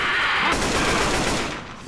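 Dense, continuous gunfire from weapons in Left 4 Dead 2's No Mercy campaign rattles loud and close as one unbroken burst, easing off slightly at the end.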